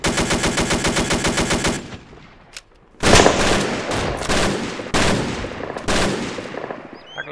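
Rapid machine-gun bursts in a rhythmic stutter, followed by several loud, close single shots and volleys in a game battle, with no talk.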